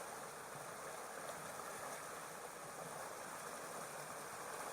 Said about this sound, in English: Two little cascades there.